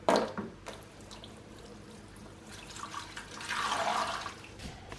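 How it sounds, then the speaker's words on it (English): Water poured from a bucket onto bedding material mixed with leaves makes a soft, low splashing wash that swells briefly midway, fairly faint and alone. "And then pour that water on it"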